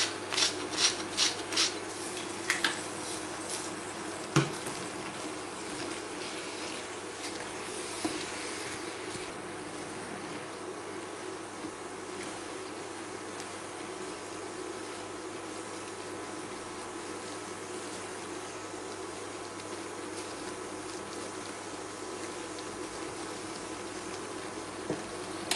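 Minced meat seasoned with salt and pepper cooking in a pan, a soft continuous sizzle and crackle with a few scraping stirs at the start, fairly quiet throughout.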